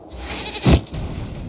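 A single short goat bleat rings out in Dragon Age: Inquisition, loud and close over a steady low background hum.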